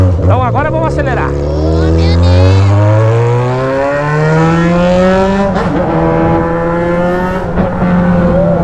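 A Yamaha XJ6 motorcycle engine revs up loud and close, its pitch climbing in long rising sweeps, dropping back, then accelerating again.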